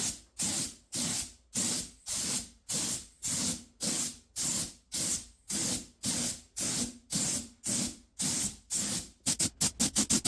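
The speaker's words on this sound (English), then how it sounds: "then spraying a second coat of primer" Repeated short bursts of spray hiss in a steady rhythm as a second coat of primer goes onto a wheel rim, about a dozen pulses, ending with a quicker run of rapid spurts; close and clear, no talking.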